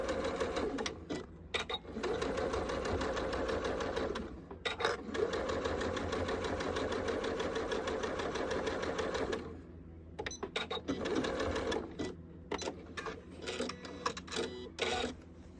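A sewing machine stitches a fabric seam with backstitching at the start and end, running in long steady whirring bursts broken by short pauses and stop-start clatter near the end.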